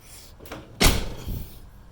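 A single solid thunk of a 1982 DeLorean's door swinging shut but not closing fully because of a charger cable, close by, with a softer knock just after in a quiet setting.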